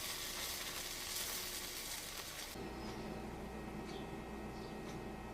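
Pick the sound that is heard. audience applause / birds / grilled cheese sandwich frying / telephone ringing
grilled cheese sandwich frying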